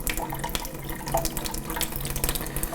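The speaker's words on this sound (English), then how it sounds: "give this one more rinse, and then I'll put this in our little mixing bowl" Tap water runs steadily into a sink while a mixing bowl and a tube are rinsed, giving a continuous close splashing with small clinks, no talking.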